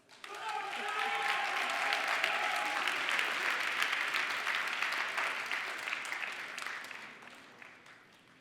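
Sustained audience applause at a university honors convocation and awards ceremony, a dense wash of clapping from a large crowd that holds steady for several seconds, with faint voices early on, then tapers toward the end.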